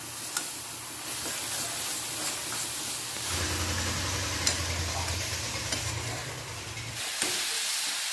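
Grated coconut and jaggery are stirred in a pan for a pulli pitha filling, giving a continuous sizzling hiss with scraping strokes that grow louder midway, then stop abruptly near the end.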